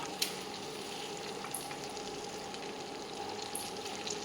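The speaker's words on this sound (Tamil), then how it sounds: "நறுக்கி வச்ச முட்டைக்கோஸை போட்டுடணும்" Steady oily sizzling of chopped cabbage frying in a pan, with a few soft clinks from stirring.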